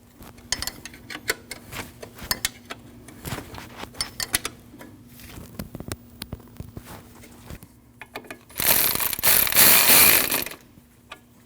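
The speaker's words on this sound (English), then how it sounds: "Install your 10mm bolt and tighten both." Ratchet tightening 10mm bolts while installing an alternator and power steering belt on a 2003-2008 Subaru Forester 2.5L, with scattered close mechanical clicks and taps, then a burst of loud, fast ratcheting near the end.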